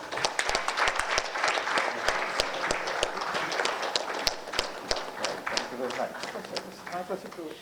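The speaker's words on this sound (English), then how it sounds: "Yes, you can continue to applause." Sustained clapping from a crowd, brisk and dense, with a few louder claps popping out and a voice faintly audible toward the end.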